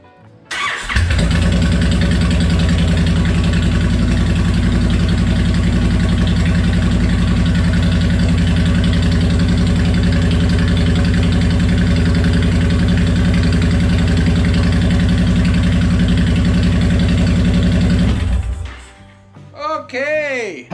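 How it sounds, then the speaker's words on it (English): A Honda Fury motorcycle with an aftermarket exhaust idles after a cold start, a loud, steady, deep rumble running nearly twenty seconds before it cuts off abruptly, leaving quieter background noise. "It's just idle on cold start."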